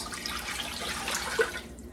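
Water pours steadily into a cooking pot in a home kitchen while shepherd's pie is being made, a continuous close splashing stream that runs alone without talk.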